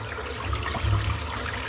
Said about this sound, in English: Just rinsing the brush out